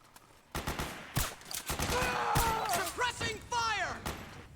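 Suppressing gunfire in the video game Metal Gear Solid 4: several sharp, loud bursts of shots break through busy combat noise, with voices calling out over the fighting.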